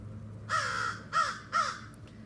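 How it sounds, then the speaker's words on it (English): Three loud, harsh crow caws in quick succession, each rising then falling, with a low steady hum underneath and no talking. "The crows are here."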